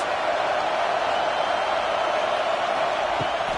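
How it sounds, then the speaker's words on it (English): A dense, steady roar from a football stadium crowd at a Florida Gators versus LSU game, cheering a defense backed up at the goal line. The broad wash of noise stays loud and unbroken throughout. "the crowd's giving them some juice"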